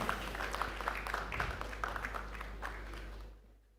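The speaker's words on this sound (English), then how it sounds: "Let's keep a round of applause going" Audience applause at the 27th Nigerian Economic Summit: a steady patter of clapping from a seated crowd in a hall, moderately loud, fading out at the end.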